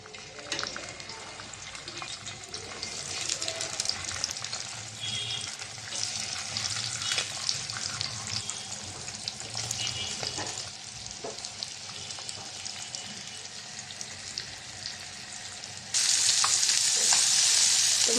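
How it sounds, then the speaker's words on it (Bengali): Fish frying in hot oil in a pan on the stove: a steady, close sizzle and crackle that runs throughout, getting louder and brighter near the end. "তাওয়াটা বসাই দিলাম, মাছটা ভেজে নেব। তেল দিয়ে দিলাম।"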